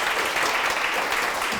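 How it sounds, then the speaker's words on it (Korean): Church congregation applauding as a child is welcomed forward, steady dense clapping filling the room without a break. "박수 부탁드립니다"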